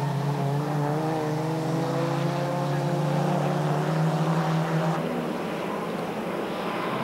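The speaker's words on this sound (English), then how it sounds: "Da kommt das Auto mit ausgeblendeten Scheinwerfern hinter dem Heller BMW" A racing car from the 1991 German Group N touring car season passes with its headlights off, its loud steady engine drone holding a high pitch and then dropping suddenly as it goes by, with a commentator talking over it.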